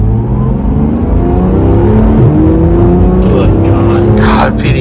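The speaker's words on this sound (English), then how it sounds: "give me a little bit blippier of an exhaust" A 2016 Porsche 911 GT3 RS in PDK Sport mode accelerates hard. The loud engine and exhaust roar rises in pitch as it revs through the gears, heard from close by and dominating throughout.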